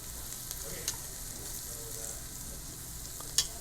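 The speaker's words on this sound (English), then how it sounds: "Throw it in, and I want it to cook a little bit in the oil and butter." Rice for lobster risotto toasting in hot oil and butter in a pan, a faint steady sizzle with a couple of soft clicks from stirring.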